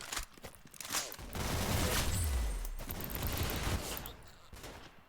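Rapid bursts of gunfire in the Roblox shooter Arsenal, a dense volley of shots with a low boom underneath, fairly loud and continuous for several seconds without speech.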